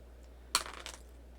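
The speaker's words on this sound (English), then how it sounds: "This is me making you roll both dice again." A pair of dice rolled during a tabletop role-playing game, heard as a brief close clatter of hard taps and a few quick bounces settling within half a second in an otherwise quiet room.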